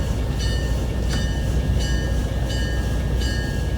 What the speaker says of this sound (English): Please wait for the train to come to a stop.